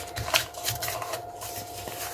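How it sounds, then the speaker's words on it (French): Paper is folded and creased by hand for a small vintage craft card, soft rustling and crinkling in short bursts close to the microphone, with a faint steady hum underneath. "je vais essayer de plier ça comme ça."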